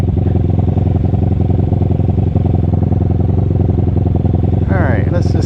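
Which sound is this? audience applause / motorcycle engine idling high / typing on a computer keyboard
motorcycle engine idling high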